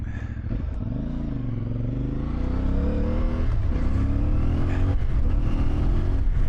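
A CF Moto IBEX450 motorcycle being ridden on the road, its engine droning loudly and close with rising and falling revs as it accelerates and shifts, alongside steady wind and road noise.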